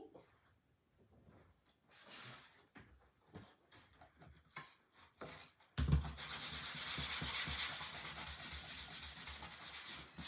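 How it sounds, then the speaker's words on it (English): Rubbing of a sanding block across a dry painted glass jar, a soft scratchy hiss that picks up in the second half into steady, continuous back-and-forth abrasion, close and moderately loud after scattered quieter handling sounds. "We're gonna sand it down a little bit with our sanding block."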